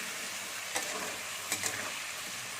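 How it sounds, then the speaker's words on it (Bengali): Potatoes with turmeric and salt frying in a pan, stirred so that a steady sizzle runs under a few soft scrapes of the spoon, with no voices. "এরকম আমি নেড়ে নিয়েছি"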